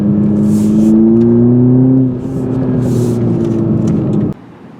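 A 2021 Toyota Supra four-cylinder sports car engine hums loudly at a steady pace, its tone easing down before the noise drops off sharply near the end.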